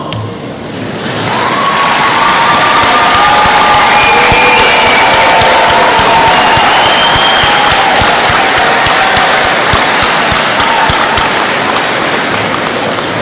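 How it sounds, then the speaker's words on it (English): Graduation audience applauding family members in a long, loud, sustained round of clapping that fills the room steadily from start to finish. "these graduates can say thank you with a round of applause"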